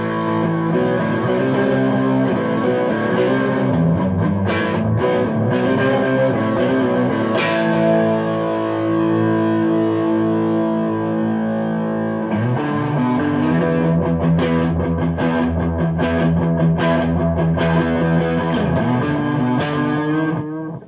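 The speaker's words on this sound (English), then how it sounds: "Let's add some distortion to it and see if we can't get this thing to go Birdland territory" An Ibanez Artcore AGS83B semi-hollow electric guitar with Duncan '59 pickups is played loud and close through heavy distortion, with sustained chords and riffs and a brief pause midway, no talk.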